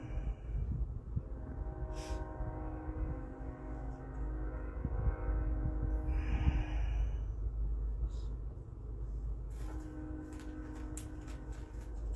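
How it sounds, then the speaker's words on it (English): A loud, noisy train rumbles past nearby, a steady low roar filling the whole stretch with some higher squeals and rattling as it goes by. "My goodness, that's a noisy train."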